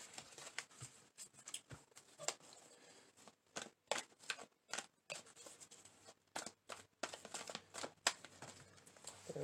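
A deck of tarot cards being shuffled by hand, with a long run of crisp riffling and flicking bursts broken by brief pauses, close and fairly quiet, with no talking.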